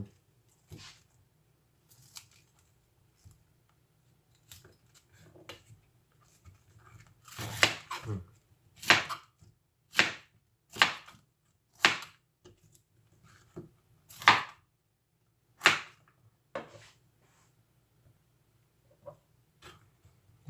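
A knife chops through vegetables such as cauliflower on a board in a series of crisp, uneven cuts, close and fairly quiet, with brief pauses between.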